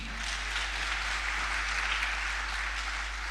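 A seated audience at a financial talk keeps up steady, even applause, a continuous rush of clapping from many people at a constant level.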